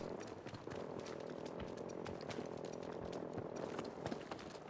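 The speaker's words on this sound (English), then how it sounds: "I can already hear their footsteps." Enemy soldiers' footsteps in Battlefield 2042 come as a rapid, continuous series of quiet thuds and scuffs over a steady background hum. They sound faint and off at a distance, with no voices.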